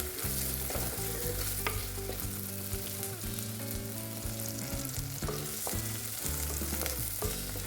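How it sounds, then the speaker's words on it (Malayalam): Onions sautéing in a pan for a drumstick-leaf thalippu, a steady close sizzle broken by scraping stirs from a spatula, with an even, continuous level and no talking. "ഈ ഉള്ളിയൊക്കെ ഒന്ന് സോഫ്റ്റ് ആവുന്നത് വരെ നമുക്കൊന്ന് വഴറ്റിയെടുക്കാം"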